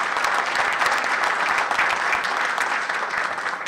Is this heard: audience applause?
yes